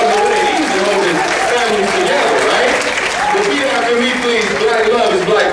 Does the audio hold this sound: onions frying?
no